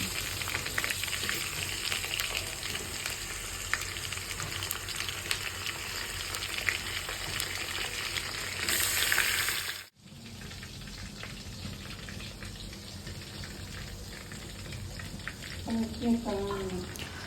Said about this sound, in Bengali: বাকি যে রোস্টগুলো ভাজা হয়নি ওগুলোও ভেজে নিচ্ছি